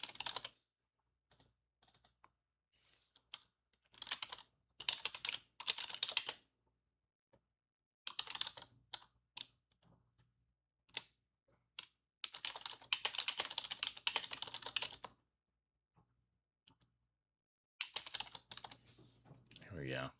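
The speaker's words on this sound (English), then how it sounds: "You guys are hearing me type in real time." Bursts of typing on a computer keyboard, close and fairly quiet, with irregular clusters of rapid key clicks separated by pauses, with a faint steady hum underneath.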